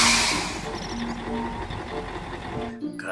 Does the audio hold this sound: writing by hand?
no